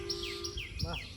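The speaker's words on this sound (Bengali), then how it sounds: "সুন্দর পাখির ডাক আমাদেরকে মুগ্ধ করছে" Birds chirp in quick repeated high tweets over a low background hum, fairly faint and a little distant.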